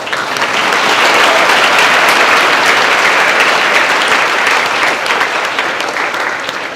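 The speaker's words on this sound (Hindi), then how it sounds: "सब लोग जोरदार ताली बजाएंगे" A room of students stands and claps together in sustained, loud, dense applause at a prize distribution for a NEET trial test, continuing steadily throughout without a break.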